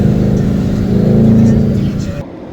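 A 5-liter V8 car engine revs to around 5,000 rpm, a loud, deep, rising drone up close that drops off sharply near the end.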